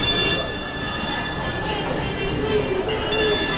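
A train passes in Davao City, a steady broadband rumble of rail traffic that fills the whole clip at an even, fairly loud level, with faint voices in the background.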